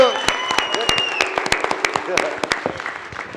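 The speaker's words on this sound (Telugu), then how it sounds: "ఒక్కసారి అందరూ భైరవ్కి గట్టిగా ఒక చప్పట్లు కొట్టండి మా కోసం" An audience at a film media Q&A event claps in a loose scattered burst, close and fairly loud, with sharp individual claps that thin out toward the end under some speech.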